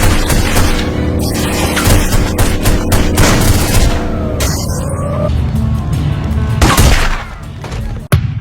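Gunfire from The Godfather PlayStation 2 video game, a steady stretch of loud shots and bursts layered over continuous game sound, with a sharp final report near the end.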